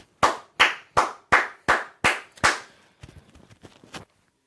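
A single person claps hands seven times in a slow, even rhythm, sharp and close, followed by a few softer, quicker claps.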